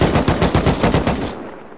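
Loud, fast automatic AK rifle fire from a video game, a rapid rhythmic burst of about a dozen sharp shots that stops abruptly, followed by a short fading tail.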